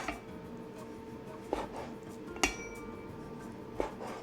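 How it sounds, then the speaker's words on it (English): A knife cuts six ounces of boneless chicken thigh into thick slices on a cutting board for Hokkien fried rice, giving three sparse, sharp knocks against a quiet kitchen background. "We'll first cut into thick slices."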